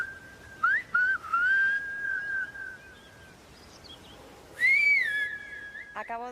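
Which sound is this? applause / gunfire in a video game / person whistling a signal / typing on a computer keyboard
person whistling a signal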